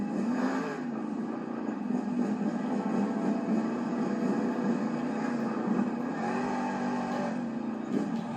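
Granger, a black and green monster truck from Devil Hills, North Carolina, roars steadily through a sky-wheelie run in an arena, its engine drone continuous and loud beneath a busy, echoing crowd din.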